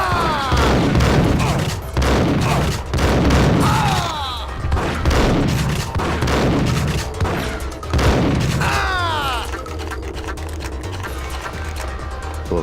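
Gunfire in the Max Payne video game, a rapid series of loud booming shots in repeated bursts over several seconds against a dense background of game noise, with a shouted voice briefly over the action.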